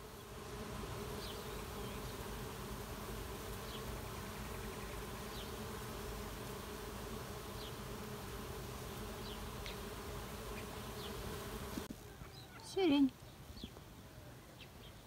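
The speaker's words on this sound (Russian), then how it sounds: "Пчелы." Bees buzzing faintly and steadily among burdock leaves and lilac bushes outdoors, a quiet ambient hum broken by a brief louder bump near the end.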